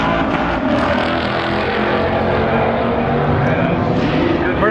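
A blacked-out Ford Mustang running a quarter-mile drag strip, its engine a loud continuous roar as it accelerates hard, close and dominating throughout.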